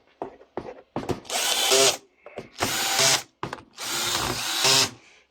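A power screwdriver drives screws back into a Parkside Performance 40V hedge trimmer housing, close whirring bursts in three longer runs with short ratcheting blips between.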